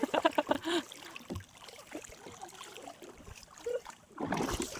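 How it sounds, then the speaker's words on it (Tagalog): A small boat is paddled against a strong river current, with splashing strokes and rushing, gurgling water close by, and voices murmuring faintly in the background. "Sobrang lakas mga kasinag ng current kaya nahihirapan si ate at si Minoy magsagwan."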